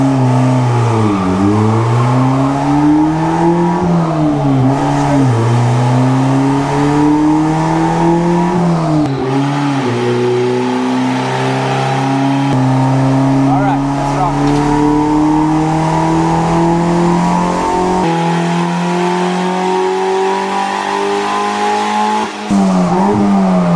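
A turbocharged Honda engine revs hard and loud without a break, its pitch rising and falling through repeated pulls into VTEC, with a steady drone the whole time.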